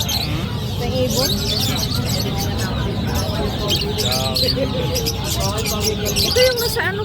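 Many small birds chirping and tweeting continuously at a market, over a busy background with people talking nearby.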